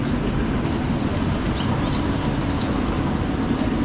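A train runs along the track, a continuous loud rumbling roar with faint rhythmic clatter, heard close from inside with no talking.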